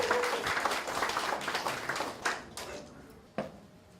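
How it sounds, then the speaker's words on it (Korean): Audience applause at a Korean association's launch and appointment ceremony, a moderate steady clapping that thins out, leaving a few scattered, sharper individual claps near the end. "박수 주시기 바랍니다"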